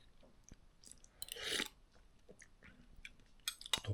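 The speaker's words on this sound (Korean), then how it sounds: "일단 한번 먹어보겠습니다" Quiet, close chewing of food after a month-long fast, with soft crunches and small mouth clicks in irregular bursts and one louder bite near the middle, no talk.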